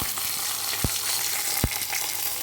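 Hot fried tempering with curry leaves poured onto jackfruit crackles in a steady, close, bright sizzle, with two sharp spoon or pan knocks and no voices.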